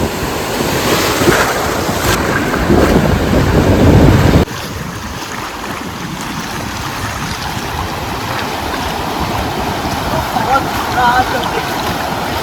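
Rough, stormy sea surges and crashes around a fishing boat in gusty wind, with loud continuous surf and heavy wind buffeting the microphone. The roar drops somewhat partway through but stays constant and close.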